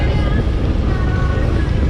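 A car engine drones low and steady throughout, with rumbling road and wind noise around it, sounding strained rather than relaxed.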